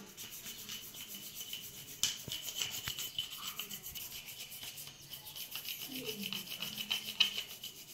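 A new brush scrubs small metal idols clean during a home puja, giving a steady, close, rhythmic rubbing and scratching with no speech over it.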